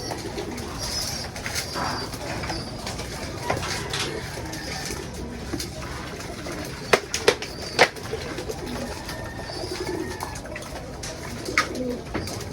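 Young pigeons coo and flutter while being fed, soft repeated coos with a few sharp clicks and wing sounds nearby, no talking.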